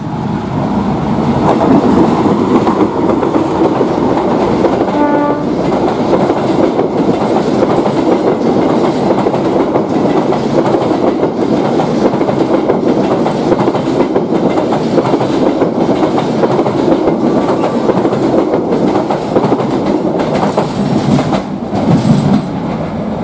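A Mataram passenger train hauled by a locomotive rolls past steadily, with a loud continuous rumble and rhythmic clickety-clack of wheels on rail joints and a faint squeal near the end.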